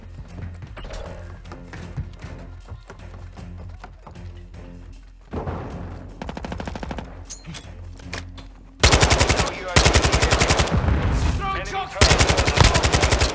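Machine gun fire rattles in a third-person shooter video game: scattered shots and mechanical clicks at first, then sustained loud automatic bursts in rapid rhythm in the second half, with faint voices underneath.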